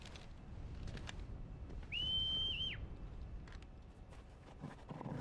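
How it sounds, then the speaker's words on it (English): A single clear, sustained whistle rises briefly and then falls over quiet background ambience and faint footsteps in Final Fantasy 16. "I'm sure nobody heard that whistle."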